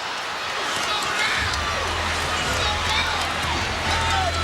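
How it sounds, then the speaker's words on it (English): A basketball arena crowd at a WNBA championship game roars in a dense, sustained wall of cheering, with a low rumble swelling in partway through. "Crowd was ready to explode."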